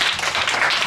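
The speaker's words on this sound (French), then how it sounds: "Super, acclamez." Brief, dense clapping from an audience at a French-language Bible quiz event, a short burst of many hands applauding at close range.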